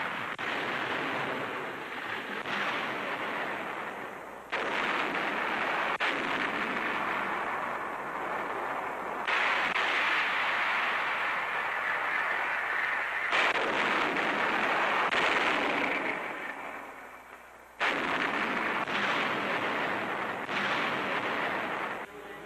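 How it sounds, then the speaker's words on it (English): A 1944 British artillery barrage during the Allied drive toward Rome, heard as heavy, sustained booming and rumbling in long roaring bursts with brief lulls, on old newsreel sound. "The barrage begins."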